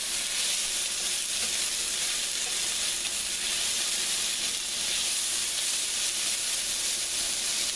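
Pieces of squash fry in a pan of hot oil, giving a steady, close sizzle and crackle that holds evenly throughout with no talking.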